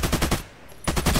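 AK-105 rifle firing full-auto in the shooter game Contract Wars: two loud bursts of rapid, evenly spaced shots separated by a brief pause, the second burst resuming sharply after about half a second of quiet.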